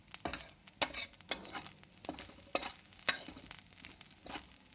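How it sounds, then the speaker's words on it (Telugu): Grated coconut frying in ghee over a medium flame for laddu, stirred with scraping strokes about once a second over a soft, steady sizzle, close and moderately loud with no talk. "మీడియం ఫ్లేమ్లో పెట్టి అంత పూర్తిగా ఇందులో నెయ్యిలో ఇది వేగే వరకు వేయించుకోవాలండి"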